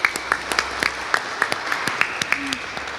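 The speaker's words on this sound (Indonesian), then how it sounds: "Boleh diberikan tepuk tangan?" Audience applause at a public outreach session on illegal cigarettes in Kendal, heard as a steady run of evenly spaced claps, fairly close and moderately loud, with no one talking over it.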